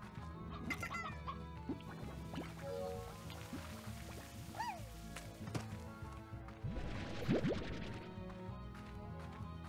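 Stony hens in the video game Slime Rancher cluck steadily, with bursts of clucking and squawks over a busy background of farm ambience and game sounds. No one speaks.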